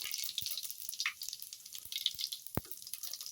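Cumin seeds sizzling in hot oil for a drumstick kadhi, a steady close hiss of frying studded with sharp pops and crackles at irregular moments, with no talking.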